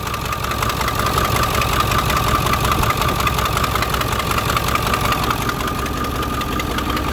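A leaking engine runs at a steady, loud, rough idle with a slight knocking rhythm throughout, close by and with no talking over it.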